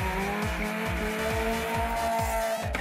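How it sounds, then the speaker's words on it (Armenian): Two BMW E30 3 Series cars with 1.8-litre petrol engines drag racing: loud, close engines rev hard in repeated rising sweeps as they shift through the gears, with a rough, continuous roar throughout. "Մրցում են E30 թափքով 3-րդ սերիայի 2 BMW"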